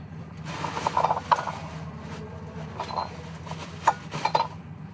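A ratchet tightens the tie rod ball joint nut on a Honda Ballade during wheel bearing work. Irregular metallic clicking and clanking sounds close by over a steady low background hum.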